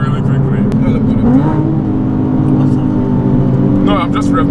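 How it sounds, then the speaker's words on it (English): A loud Nissan 370Z engine climbs in pitch as it accelerates, with a steady rumble underneath and a short rising rev near the end. "I just accelerated really quickly"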